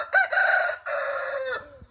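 A rooster crows once, loud and close, in two strong drawn-out phrases with a brief break between them.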